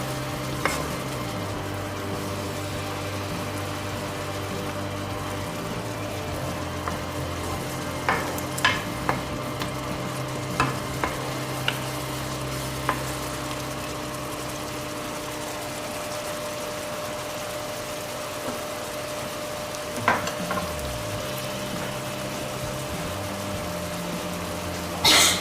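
A steady low bubbling and simmering from a pot of dal on the stove, continuous throughout, with a few soft clinks and taps.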